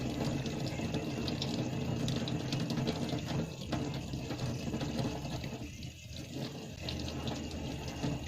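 Running tap water splashes steadily over hands being washed at a sink before preparing a vaccine, a close continuous rush with brief changes as the hands move through the stream.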